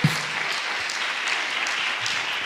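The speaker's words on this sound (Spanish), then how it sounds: "Fuerte el aplauso a Jesús" Church congregation applauding for Jesus during a Spanish-language service, a steady wash of clapping that holds evenly for a couple of seconds, fairly close and full.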